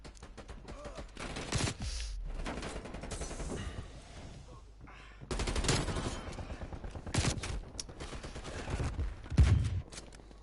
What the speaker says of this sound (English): I'm gonna give myself a second chance with the XM4.